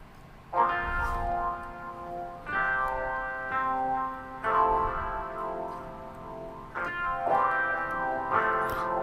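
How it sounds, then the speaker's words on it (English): Electric guitar from the MusicLab Real Rick plugin plays a series of strummed chords through chorus and distortion effects, each chord ringing out for about two seconds in a steady rhythm, with no voices. "I have a guitar plugin. This is Real Rick from Music Lab."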